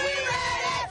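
A crowd of football fans cheering at a Jackson State team send-off in a parking lot, a brief loud burst of shouting voices.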